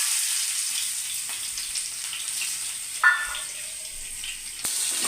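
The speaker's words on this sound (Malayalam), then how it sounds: "നമുക്ക് അതിനകത്തോട്ട് കുറച്ച് കൊച്ചുള്ളി അരിഞ്ഞിടാം" Chopped shallots sizzle in hot coconut oil with popping mustard seeds, a loud continuous hiss with a sharp crackle and a brief spatter partway, no voices.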